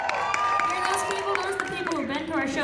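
A lively audience at a family band show cheers, whoops and claps for dancers, with steady applause and shouting voices mixed together close by.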